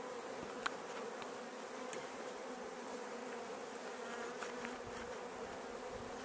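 A swarm of Apis honey bees buzzes without a break, a dense, continuous hum with a few individual bees passing close, and no one talks.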